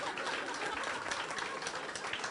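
Steady broadband applause from an audience at a homeopathy discussion session, a dense continuous wash of clapping holding at even loudness with no breaks.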